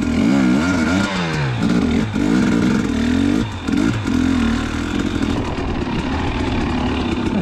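KTM 250xc two-stroke dirt bike ridden on Johns Peak singletrack, its engine loud and close, rising and falling in pitch with revs as the throttle opens and closes, with a brief dip before pulling hard again.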